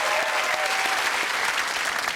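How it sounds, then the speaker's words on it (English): A studio audience at a comedy talk show breaks into loud, dense applause, sustained clapping from many hands filling the room without a break. "That's worth a round of applause."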